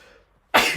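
A single sharp sneeze bursts out close to the mic after a near-silent pause during a live IndyCar race watch-along at Mid-Ohio, loud and brief with a breathy tail.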